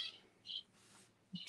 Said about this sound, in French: Ils sont très bavards. Ce sont des oiseaux bavards.